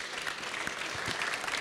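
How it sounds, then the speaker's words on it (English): Faint, steady applause from an audience at a development forum for young agricultural entrepreneurs, a soft continuous patter of many hands heard from a distance. "I will maybe ask everybody to give a clap to our young entrepreneurs"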